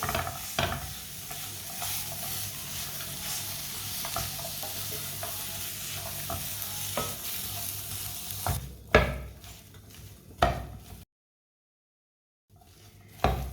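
Dates cook in a pan over a moderate flame, a steady soft sizzle under scraping stirs with a spoon against the metal, then a brief gap of silence and a few last clinks.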